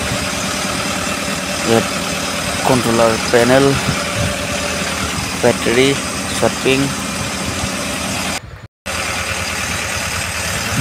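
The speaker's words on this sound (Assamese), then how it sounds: "আৰু এই ইঞ্জিন স্পীড 1100 RPM গৈ আছে।" River boat engine idling at about 1100 RPM in the engine room, a continuous close mechanical drone under someone talking, with a brief dropout near the end.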